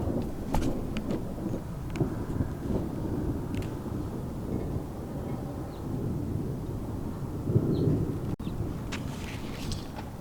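Rain falls steadily outdoors during a thunderstorm, with low rumbles of thunder rolling beneath the patter and occasional gusts of wind.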